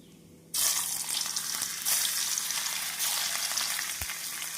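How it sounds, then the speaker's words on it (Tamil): Thin potato slices go into hot oil in a kadai for crispy chips. A sudden loud, dense hiss and bubbling burst starts and then keeps sizzling steadily up close, with an occasional knock. "நாம் உருளைக்கிழங்கை இப்படி நன்றாக இழைத்து கடாயில் எண்ணெயை காய வைத்து பொரித்து விடலாம்"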